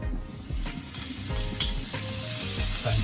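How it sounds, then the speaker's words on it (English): Butter drops into a hot pan used for honey garlic salmon and sizzles steadily, a close crackling hiss that grows brighter and louder as it melts, with a few faint clicks and no talking. "Going in my butter, guys."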